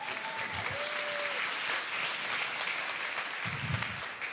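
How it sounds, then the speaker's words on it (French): Church audience applauds in a warm, sustained wash of clapping, moderately loud and steady throughout, with a brief murmur of voices near the end. "si vous applaudissez pour de vrai"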